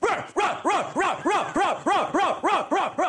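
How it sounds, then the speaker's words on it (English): A dog gives a rapid, insistent series of frustrated barks, about ten sharp yelps in quick even rhythm, close and loud with no other sound. "see, that is a frustrated bark, right?"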